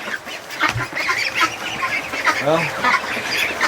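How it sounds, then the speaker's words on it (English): Ducks quack and honk in a barn, with several nasal calls at close range mixed with rustling. A person speaks briefly over them. "Oh, little ducks."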